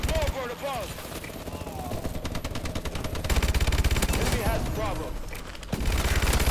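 Rapid automatic gunfire from the shooter game Call of Duty: Advanced Warfare rattles in dense sustained bursts over a busy game soundscape, with a short break near the end before firing resumes.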